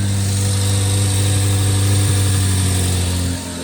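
A 2026 Corvette Z06 3LZ supercar engine with a custom-built motor idles steadily and loudly close by, a deep even rumble that drops slightly in level at the very end.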